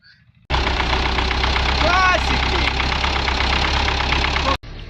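A vehicle engine, someone driving home from work in a rural area, cuts in suddenly as a loud, rough, rattling drone that holds steady for about four seconds, with a voice briefly overlapping, then drops away abruptly.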